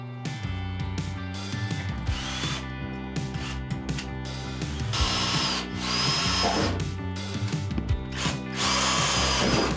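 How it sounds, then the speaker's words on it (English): A power drill bores holes in a van wall ahead of a jigsaw cut, whining loudly in repeated bursts with short pauses between holes, close by and with no talk. "Jimmy's drilling around where we're going to cut later with a jigsaw"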